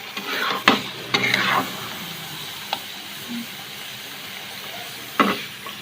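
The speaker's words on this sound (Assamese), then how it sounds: "তথাপি মই অকণমান সময় লাৰি লাৰি ভাজিম" Meat frying in oil after its water has dried off, stirred in a pan at home for a Bhogali Bihu Uruka feast: a steady sizzle and hiss with a few sharp scraping strokes of the spatula, close and fairly loud.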